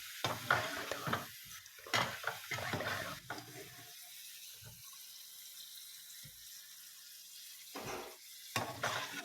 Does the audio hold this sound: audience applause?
no